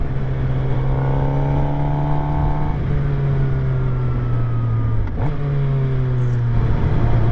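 A 2023 Suzuki GSX-R750 motorcycle engine holds loud, steady high revs with slowly shifting pitch, briefly dips near the end, then climbs again, close and dominant throughout.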